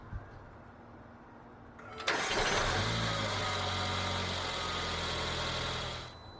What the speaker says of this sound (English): Let's check the car one more time, if it starts.